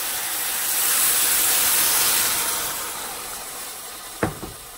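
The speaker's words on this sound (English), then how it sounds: "Woo, you hear that sizzle." Chicken broth and tomato paste hit a hot pan with a broad, loud, steady hissing sizzle that slowly eases off, with a brief clatter near the end and no talk.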